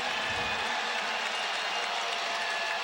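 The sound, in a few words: basketball arena crowd cheering Michael Jordan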